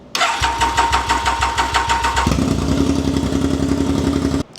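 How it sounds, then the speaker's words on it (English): A project motorcycle with a loud aftermarket exhaust cranks with rapid rhythmic chugging, then catches and roars into a loud, rough idle with a throaty exhaust. "now I'm just going to start up the bike and try get it to a reasonable idle"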